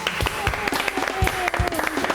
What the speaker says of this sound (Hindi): जोरदार तालियों में हम वेलकम करेंगे जवेरिया सऊद और सबा फैसल को।